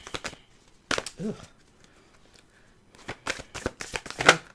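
Bursts of crisp riffling and slapping as a deck of tarot cards is shuffled in several quick bouts, with brief pauses between them and faint speech.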